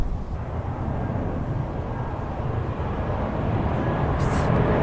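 A low, broad roar of an airplane passing overhead, steady and gradually growing louder throughout.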